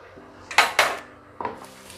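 Chopped onions tipped into a pan for chicken biryani, two sharp metallic clatters followed by a softer knock, close and brief, with no voices.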